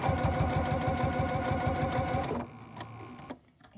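Sewing machine with a zipper foot stitching piping, running in a fast, steady mechanical rhythm close by for a couple of seconds before stopping, followed by a few light clicks and handling noises.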